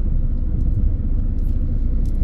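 Constant low rumble of congested road traffic near a motorcycle accident by Malvar municipality, engines idling and passing nearby, loud and steady without talk.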